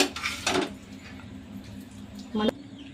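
Freshly cooked veg manchuria is served from a pan onto a plate, with two clattering scrapes of utensil on metal cookware, one at the start and one near the end, over a quiet kitchen background.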